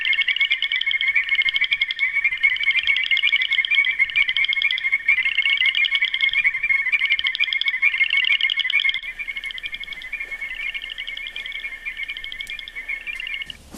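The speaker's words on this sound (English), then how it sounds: "The frogs make a wonderful noise" A dense chorus of frogs croaking and trilling in a continuous pulsing rhythm, loud at first, then dropping to a quieter, more distant chorus.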